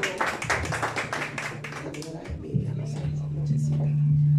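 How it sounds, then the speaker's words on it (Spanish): Applause at a birthday celebration with a mariachi band, a burst of close clapping that thins out after two seconds as a sustained low instrumental tone takes over. "Y el aplauso bien bonito"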